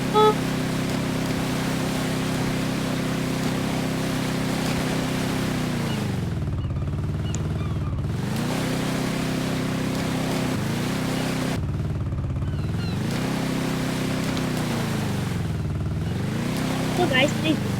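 A boat engine drones steadily on open water, loud and close, its pitch dipping and rising as the motor revs change, with wind and spray noise throughout.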